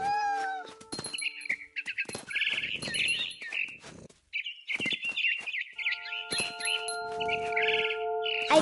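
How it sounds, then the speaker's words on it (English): Barn swallow chirps and twitters in the video game What Remains of Edith Finch, a string of bright, rapid tweets in bursts with brief pauses, fairly close, joined by steady tonal game music. "It was a barn swallow going back to her nest."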